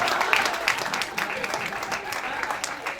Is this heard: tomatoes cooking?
no